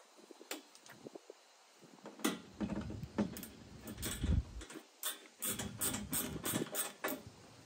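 Factory screws are being driven into a molle panel on an F-150 tailgate, a quiet series of close clicks, ratcheting turns and small metallic taps in uneven bursts.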